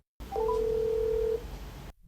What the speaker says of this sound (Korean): 결국 준호는 유진에게 전화를 걸기로 했습니다.